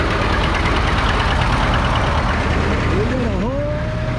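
Several tractors rumble past, their diesel engines knocking and droning loudly and steadily, with a brief rising and falling whine near the end.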